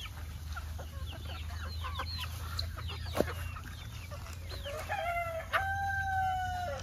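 Native chickens on a rainy-season farm in a mango orchard, with rooster crowing and hens clucking in a busy mixed chorus over a steady low rumble of background noise, fairly close and continuous.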